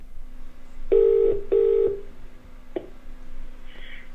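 Computer-based telephone dialing: two clear tones in quick succession followed by a shorter third beep, set over a faint steady hum, with no talking.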